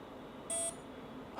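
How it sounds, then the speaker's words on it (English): A Festool power tool gives a single short, clear electronic beep after both on-off switches are held, a bright tone lasting about a fifth of a second over quiet background, followed by a faint trailing click. "it takes about 10 seconds and you'll hear a beep."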